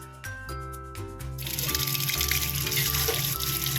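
Glutinous rice being washed in water, with wet squishing and sloshing that starts sparse and turns into a steady, close gush of running water.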